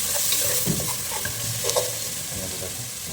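Onions and green chillies fry for beef biryani, sizzling continuously up close as a spoon stirs and scrapes the pan.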